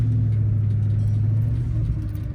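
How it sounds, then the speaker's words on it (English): A manual car's engine idles in a low, steady rumble as the clutch is slowly let out, a loud close drone that sags slightly in level toward the end, with no talk. "I'm letting go of the clutch really slow so the car doesn't actually die"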